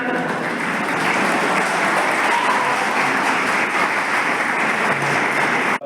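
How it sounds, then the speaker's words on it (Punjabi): Students at a government college in Ropar applaud during a National Voters' Day celebration, a loud, dense and unbroken clapping that fills the hall for the whole stretch. "ਇਹ ਤਾਂ ਤਾਲੀਆਂ ਕਰਦੇ ਹਨ"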